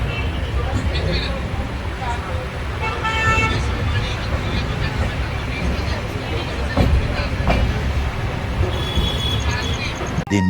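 An overnight sleeper train from Udaipur to Mumbai rumbles steadily along the rails, loud and continuous, with horn-like toots and a murmur of people talking in the background.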